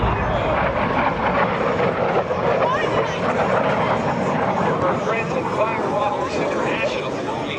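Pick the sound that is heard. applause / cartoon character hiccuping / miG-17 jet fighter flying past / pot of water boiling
miG-17 jet fighter flying past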